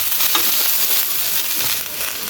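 Cabbage sautéing in a pan for a cabbage thuvayal side dish. A continuous bright sizzling hiss holds at an even level for the whole clip, with no voices.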